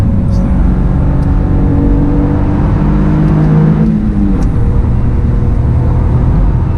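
A Toyota GR Yaris engine pulls hard and loud from up close in second gear, its note climbing steadily before a quick drop as it shifts, with a voice exclaiming.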